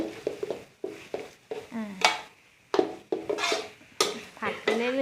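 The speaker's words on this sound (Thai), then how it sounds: "ผัดจนกว่าหมูจะสุกนะ" Minced pork being stir-fried in a pan for Thai khua kling, with repeated scraping spatula strokes against the metal in an irregular rhythm, close and clear, over a soft sizzle.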